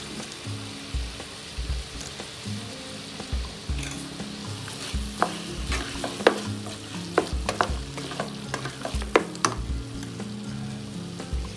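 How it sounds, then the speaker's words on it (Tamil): Chicken stir-fried with pepper masala powder for Chettinad pepper chicken roast, a steady close sizzle broken by repeated scraping strokes of a spatula in the pan, the stirring growing busier and louder toward the middle. "இப்போ அந்த பவுட்ரு போட்டுக்கலாங்க. இது நல்லா வதக்கி விடுங்க."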